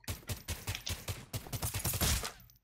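Rapid bursts of gunfire from the Hero Badass video game rattle loudly in quick, uneven volleys that run almost without a break, with no voices.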